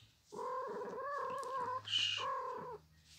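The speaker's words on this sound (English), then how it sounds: "there's my cat Lucy." A house cat lets out a drawn-out, close meowing yowl lasting a couple of seconds, with a brief break near the end, in an otherwise quiet room.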